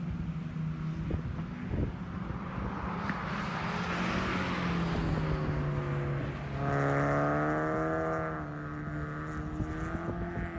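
Race cars circulate on the track at Sebring during a brief warm-up session for a FARA Spec Miata race, a steady engine drone with rising and falling harmonic whine as a car passes, swelling louder near the end.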